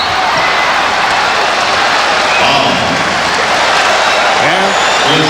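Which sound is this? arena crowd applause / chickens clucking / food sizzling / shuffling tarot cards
arena crowd applause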